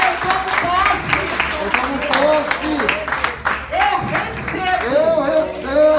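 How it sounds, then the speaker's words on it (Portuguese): A church congregation applauds in a dense, sustained round of clapping while voices ring out over it, with people talking and calling out throughout. "Vamos dar mais uma salva de palmas."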